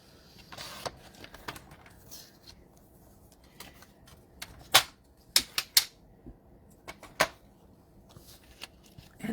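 Paper is cut down to 5 inches for a one-sheet card project, giving soft rustling and a few sharp, snappy blade clicks close by, scattered irregularly across a quiet background.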